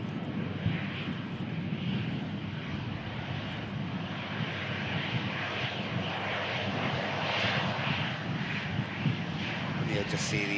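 An EasyJet airliner in Malaga livery rumbles past, a continuous jet-engine roar at moderate distance while people talk over it.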